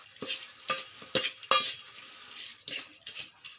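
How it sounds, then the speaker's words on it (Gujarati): A spoon stirring a tempering as it fries in a pan, producing a series of scraping strokes in irregular rhythm over a soft sizzle, close and fairly quiet. "મિત્રો હલાવવાનું જુઓ તમે"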